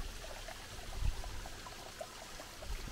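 Soft, steady flow of creek water on Sugarloaf Ridge, a faint, continuous trickle and gurgle with no voices.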